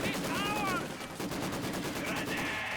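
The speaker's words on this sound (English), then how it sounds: "Maxim machine gun and conscripts." A Maxim machine gun fires rapid bursts in Company of Heroes 2, quick repeated shots mixed with other battle gunfire and whistles, moderately faint, with a voice commentating over it.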